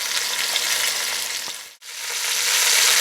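Pieces of rabbit fry in a pan for a stew, giving a close, even, crackling sizzle that cuts out briefly midway before building back up.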